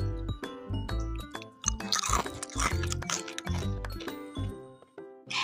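Crispy homemade Lebaran cookies crunch loudly and close-up in a quick irregular run of sharp crackling bites and chews, with no talking over them.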